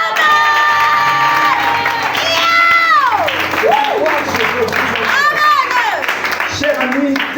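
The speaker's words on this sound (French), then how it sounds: "Est-ce qu'on peut acclamer?" A French-speaking church congregation erupts in loud cheering and clapping, with high whoops and shouts rising over dense, continuous applause that fills the hall for several seconds.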